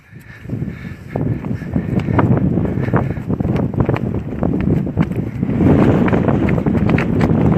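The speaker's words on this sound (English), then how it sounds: "But the wind is picking back up." Strong wind buffeting an open outdoor spot in Pahrump, Nevada, a constant loud roar of gusts pounding the microphone with rumbling flutter throughout.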